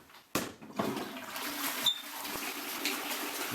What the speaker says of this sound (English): Toilets all flushed in.